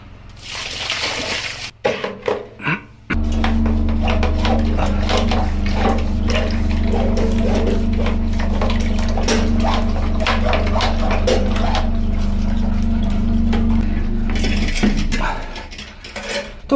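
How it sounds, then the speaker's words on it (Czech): Clean water running into a clogged household drain while it is being cleared out, a steady continuous pour with trickling and sloshing over a low mechanical hum, with brief clatter at the start and end. "Vytahuji všechny ty sračky ze spodu a napouštím tam čistou vodu."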